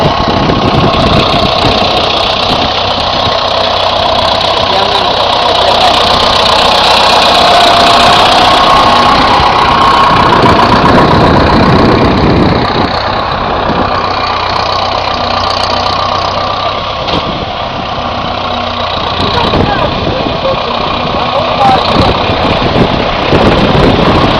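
Engine of a beet harvester in a field roars loudly and steadily as it unloads a load of beets, a continuous mechanical drone with a knocking rumble and no clear talk.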